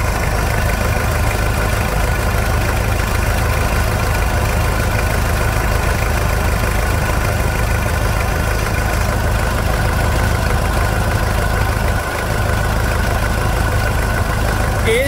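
A worn, smoking 1997 Toyota SW4 3.0 turbo engine idles steadily and loudly up close, a constant low rumble with a slight uneven knock throughout.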